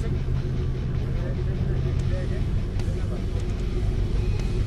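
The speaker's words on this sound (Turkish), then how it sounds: "Aracı tekrar çalıştıralım." A 4x4 vehicle's engine cranks and idles with a steady low rumble, close and continuous throughout, with voices talking over it.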